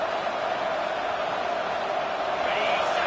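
Stadium crowd noise in the NCAA 26 college football video game, a steady, dense roar of cheering fans that builds slightly toward the end, heard under game commentary.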